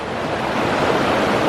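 Creek water rushes beside a hiking trail in a steady, loud, broadband wash with no breaks, close by and alone, with a slight swell partway through.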